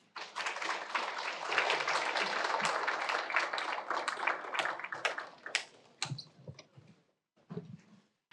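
Audience applause after a keynote speech at a university anniversary global forum: dense, sustained clapping from a large crowd for about six seconds, then thinning into scattered claps and a brief pause before a final burst.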